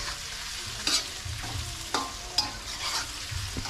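Hotdogs frying in a pan and being stirred, with a soft continuous sizzle broken by a few scraping strokes and light knocks of the utensil against the pan.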